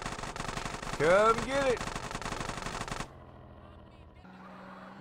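Rapid machine gun fire in Grand Theft Auto San Andreas, a dense burst of shots over the first three seconds with someone talking over it, then quieter game ambience with a low hum.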